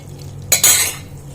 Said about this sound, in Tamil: நல்லா மிக்ஸ் பண்ணி கொடுத்துக்கணும்